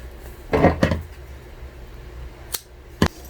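Scissors snip a notch into fabric during sewing. There are two quick paired cuts, then two sharper single snips after a short pause, all close and crisp.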